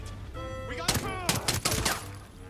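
Gunfire in the video game Ghost Recon Breakpoint: a short burst of several sharp, loud shots in quick succession near the middle, over steady game ambience and background tones.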